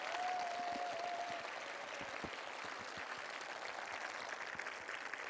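Sustained applause from a large audience at a talk concert in Seongnam fills the room as a dense, even wash of clapping, with a faint whistle near the start.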